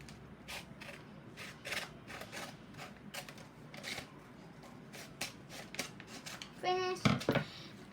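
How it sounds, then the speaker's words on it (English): Scissors cut paper in a series of short, crisp snips about one every half second, close and fairly quiet, with a rustle of paper and a brief voice near the end. "you can use scissors to cut it, or you can rip it. Because I'm going to use scissors."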